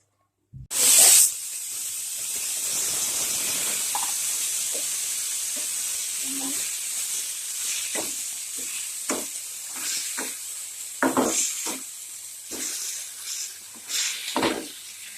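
Spinach with crushed garlic and spices drops into hot oil with a sudden loud burst of sizzling, then settles into a steady, close hiss with occasional stirring scrapes and pops.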